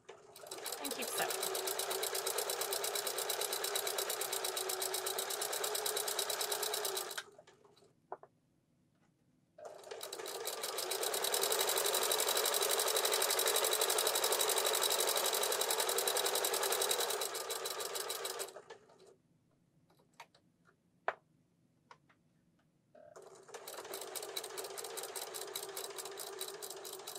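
A sewing machine runs in three long, steady stitching bursts with short quiet pauses between them while seaming around a pillow.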